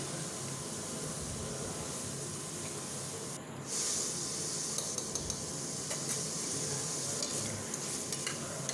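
Chicken frying with ginger garlic paste in a pan, a steady close sizzle and hiss that swells partway through, broken by scattered clicks of stirring, no voices.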